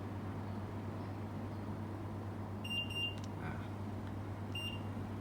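Saijo Denki air conditioner beeping in response to a remote, two short electronic tones near the middle and another near the end, over a steady hum and background hiss.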